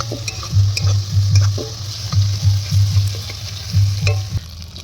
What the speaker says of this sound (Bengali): টমেটোটা দেওয়া হলো, দেওয়ার পরে এবার একটু নাড়ানো হবে।